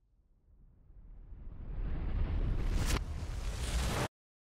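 A Russian BM-21 Grad rocket launcher struck by an FPV drone explodes, a roar that swells over several seconds into a loud sustained rumble with a sharp burst near the end before cutting off abruptly.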